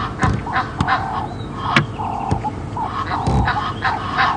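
Egyptian geese at Djuma Game Reserve honk loudly and repeatedly in harsh, rhythmic bursts, close by, with several birds calling over one another.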